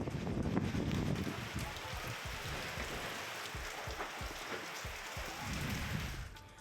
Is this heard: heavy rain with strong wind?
yes